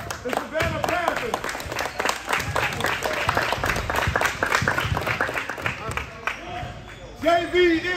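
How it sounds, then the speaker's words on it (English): A crowd at a 9th grade football championship applauds the runner-up Savannah Panthers with sustained clapping and cheering, while an announcer's amplified voice talks over it and a few whistles or shouts break through near the end. "let's give a big round of applause to our runner-up, the Savannah Panthers"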